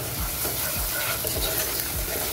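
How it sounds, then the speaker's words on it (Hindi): Shredded chicken pie filling seasoned with black pepper, crushed chilli and salt, frying in a pan with a steady close sizzle and a few soft, regular scrapes of stirring, no voices. "हम थोड़ा भून लेंगे।"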